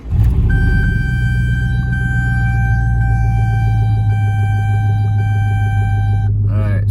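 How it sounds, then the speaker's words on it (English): A pickup truck engine runs at a steady idle close by, a loud, even low rumble with a constant whine above it that holds for several seconds before a brief change at the end. "But we're gonna turn the truck on now and see what they read with the charge."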